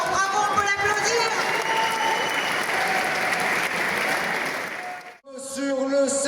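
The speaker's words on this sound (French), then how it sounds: "on peut l'applaudir" A crowd at an MMA event claps and cheers loudly for a fighter, with dense applause that cuts off abruptly near the end, where a loud voice begins over music.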